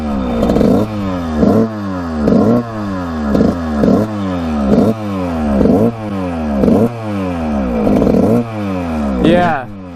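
A Suzuki RM125 two-stroke dirt bike engine idles and revs in a steady, repeating pattern, roughly eight loud throttle blips rising and falling over a rattling idle, close by, with a brief sharp scrape near the end.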